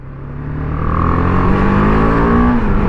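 A BMW G310R motorcycle accelerating on a highway, its single-cylinder engine note rising steadily in pitch over a few seconds, loud and close under rushing wind, with no talk.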